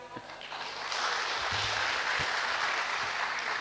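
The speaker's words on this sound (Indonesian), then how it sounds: "Terima kasih, tepuk tangannya." A hall audience applauds at the opening of a Muhammadiyah congress, the clapping swelling after a brief lead-in and then holding as a dense, even wash, with faint voices beneath.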